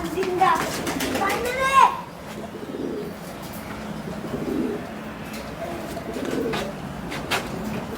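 Pigeons coo softly nearby in low, repeated murmurs while people talk over them.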